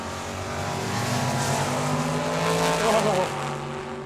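A dragster racing at Tucson Dragway, its engine roaring loud and steady with a rising pitch before it cuts off, over the trackside crowd's murmur.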